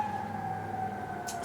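A siren sounds somewhere outside, a steady wailing tone that holds moderately faint and continuous under a low hum of background noise, without any voices.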